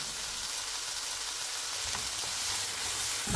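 Ingredients sweat down in a pan for a curried pasta salad, giving a steady, soft, continuous sizzle and hiss that stays even throughout, close and fairly quiet.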